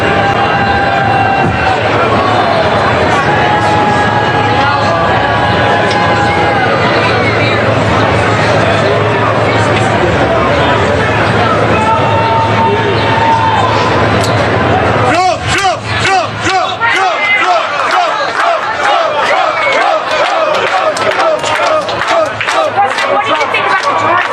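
A big crowd outside a bodega in New York City cheers and chants for Trump, a loud roaring mass of voices with rhythmic shouted chanting that turns choppier and more pulsing in the second half.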